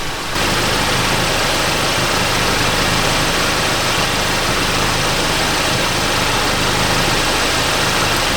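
A Volkswagen Mk7 GTI engine idles steadily throughout with a dense, constant rumble and no change in pace, close and loud while an oil drain is under way.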